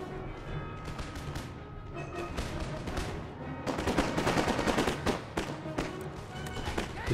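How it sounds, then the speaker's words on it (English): Pirates firing pistols in the strategy video game Empire Total War, a dense, ragged volley of many sharp shots crackling over a low battlefield rumble and growing heavier partway through. "Discharge their pistols and charge."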